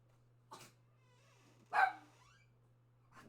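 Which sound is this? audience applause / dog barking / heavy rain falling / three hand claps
dog barking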